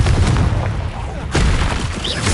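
Confringo explosive spell fired in Hogwarts Legacy on PS5, booming blasts and crackling bursts in quick succession amid busy combat sound, loud and near, with brief shouted voices over the top.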